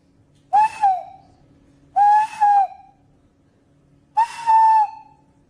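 A lecturer whistles a pure tone of roughly 900 hertz three times, each a short, loud, clear burst with a brief dip in the middle, separated by pauses in a quiet hall.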